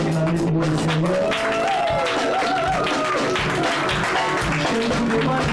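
A church congregation cheers and applauds for the Lord, a steady wash of clapping and voices over sustained sung or played tones.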